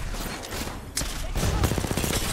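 Rapid bursts of video game gunfire from a match with the character Octane, a dense, continuous volley of shots that thickens in the second half, with no voices.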